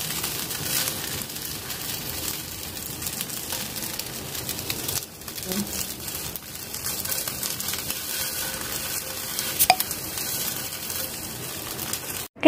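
Chicken satay sizzles and crackles steadily on a grill or pan, a continuous close hiss with small pops, heard alone until a brief knock at the end.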